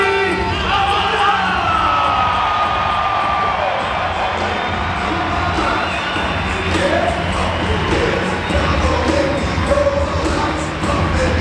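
A large crowd cheers and applauds for the French SX1 supercross champion at the Lyon SX Tour final in 2023, a loud, continuous roar with an announcer's voice over it.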